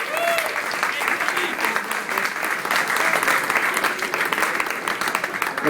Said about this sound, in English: if we give her a big round of applause as well,